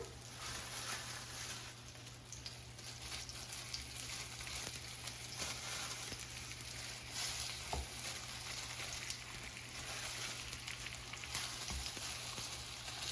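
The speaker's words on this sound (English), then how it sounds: "since the pan has been heated and the oil is already sizzling" A continuous low hiss and crackle of seasoned grouper frying in hot oil in a preheated pan, fairly quiet and steady, with occasional small pops.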